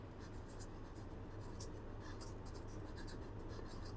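Pen scratching on paper in a quiet room, a run of short, faint strokes in an uneven rhythm close by, as a word is written out by hand.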